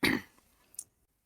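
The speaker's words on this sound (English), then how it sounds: "let me clear my throat" A single short, rough throat clearing comes at the start and fades quickly, followed by a faint click and then near silence.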